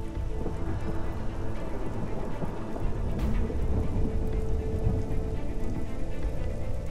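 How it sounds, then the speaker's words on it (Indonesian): Heavy rain pours steadily, a dense continuous hiss and patter of drops on surfaces at a constant loud level with no one talking. "Tapi sekarang sedang hujan deras dan kita berdua butuh bantuan."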